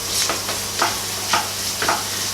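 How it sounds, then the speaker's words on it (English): Flour is stirred into a sizzling pan for a Quorn white sauce curry, with a constant hiss and four evenly spaced stirring strokes close by. "two tablespoons flour, just going to mix this in"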